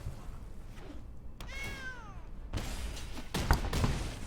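A cat meows in a few rising and falling harmonic calls, close by, with soft thumps and rustling around it; no speech is heard.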